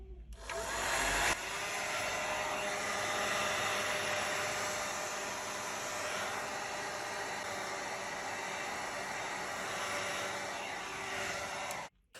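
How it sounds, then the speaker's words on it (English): A loud, steady heat gun or hair dryer roars continuously at close range, heating a Google Pixel 4 XL back panel, then cuts off abruptly at the end. "Use a heat gun or hair dryer to heat up the surface of the back panel."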